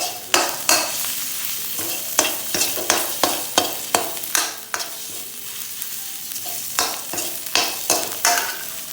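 Panaeng curry paste stir-fries in a pan, a continuous sizzle broken by a rapid series of sharp spatula scrapes and knocks against the pan, close and fairly loud.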